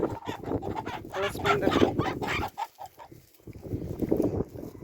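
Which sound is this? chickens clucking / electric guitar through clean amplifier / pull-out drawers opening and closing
chickens clucking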